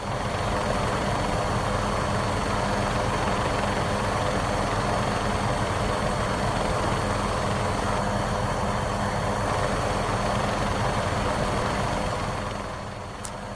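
Continuous engine and rotor roar of a helicopter in an Xbox flight simulator, flown in drone camera mode around UCLA Medical, loud and steady throughout before easing slightly at the very end.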